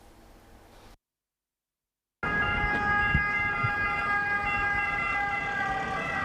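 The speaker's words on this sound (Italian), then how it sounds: "È appena passata un'ambulanza" After a brief silence, an ambulance siren wails loudly and steadily over a low traffic rumble as it passes through the Saviabona neighborhood.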